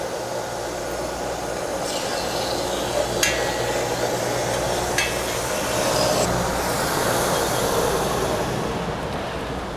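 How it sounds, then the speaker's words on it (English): A thickness planer runs a wooden board down to 3/4 inch with a steady loud droning roar, broken by a few sharp knocks and clunks as the board feeds through, with no talking. "We come to the planer, and I'm going to set it like that. Run it just like you would any normal board"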